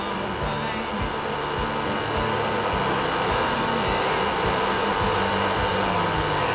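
An electric induction heater runs steadily while heating a blacksmith's knife blade, giving a loud, constant electrical hum and whine with a faint pulsing low rumble throughout.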